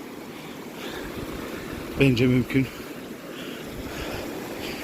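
A small waterfall on Erciyes Koç Mountain gives a steady, soft rushing of water throughout, briefly overlaid by someone speaking in the middle.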